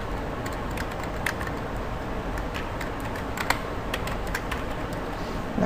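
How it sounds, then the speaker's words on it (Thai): Keys clatter steadily on a computer keyboard as someone types a web address into a browser page, producing a quick run of light, close clicks with a few sharper taps, and no voice. "เสร็จแล้วก็พิมพ์คำว่า e-learning ค่ะ"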